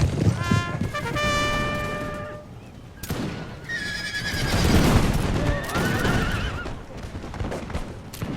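Cavalry horses in a Napoleonic-era war game, Imperial Splendour mod for Total War, whinny repeatedly and loudly, with shrill neighs overlapping, faint hoof clatter and scattered musket fire in the background.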